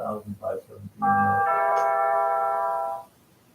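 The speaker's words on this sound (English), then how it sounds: "Sorry, that's our doorbell." After a few spoken words, a loud electronic doorbell at a front door chimes with a sustained ringing tone lasting about two seconds, then stops.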